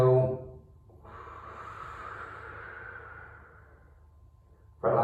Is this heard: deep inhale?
yes